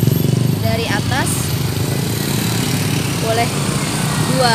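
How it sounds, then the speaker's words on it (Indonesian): Motorcycles rumble past one after another on a one-way road at Puncak in Bogor, engines rising and fading close by under steady traffic noise, while a person talks over it. "Hanya motor aja yang boleh lewat."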